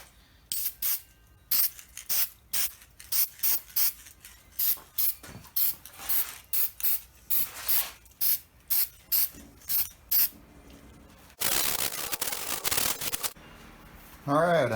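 Trigger spray bottle misting a wooden lamp base, a fast series of short sharp spritzes in bursts, with a longer hissing spray near the end.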